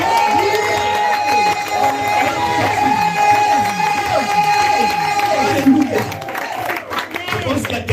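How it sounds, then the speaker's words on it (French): A wedding congregation at a celebration in Paris cheering and acclaiming Jesus, a dense crowd roar of many voices with rhythmic shouts and some clapping, loud and sustained, while a voice leads over it. "On acclame Jésus!"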